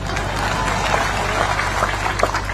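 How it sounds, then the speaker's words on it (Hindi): Steady crowd applause fills a public event in Belpan, broad and continuous at moderate level, with scattered voices mixed into the clapping and a low hum beneath. "बेलपान में ताली नहीं बजा दो तो आगे नहीं पढ़ाऊंगा।"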